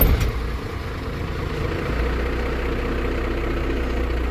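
A truck engine, bought sight unseen, idles steadily after starting, a close low rumbling drone that holds an even level throughout with no talk.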